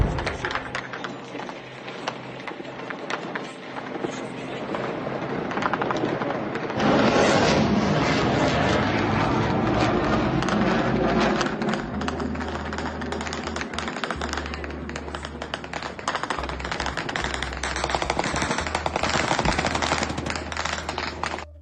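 Rapid bursts of distant Russian air defense gunfire at night crackle continuously for over twenty seconds, dense and rattling, with occasional heavier thuds and a low rumble underneath.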